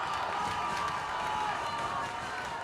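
A crowd cheers steadily at a school rugby match between Paarl Boys and Wynberg Boys, a dense, continuous roar of voices from the stands with no pauses.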